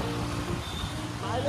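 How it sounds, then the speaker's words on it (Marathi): Heavy road traffic passing beneath a flyover under construction in Amravati, a steady close rumble of engines with no gaps, and voices faintly mixed in. "लय व्हायरल ट्रॅफिक असते रे बा इथं"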